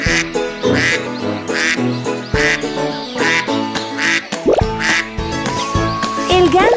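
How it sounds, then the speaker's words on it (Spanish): A duck quacks in a series of short, regular calls set over bright, bouncy music, with a splashy plop near the middle. "El pato."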